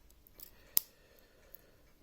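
The 58mm scissors of a Victorinox Signature pocket knife being handled, one crisp metallic snip up close with a fainter click before and after, in a quiet room with no talk.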